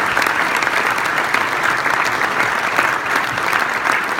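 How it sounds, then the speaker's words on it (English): Audience applause at an award presentation, dense and sustained clapping from a sizable crowd, loud and even throughout with no talk over it. "I think we owe them a great round of applause for their"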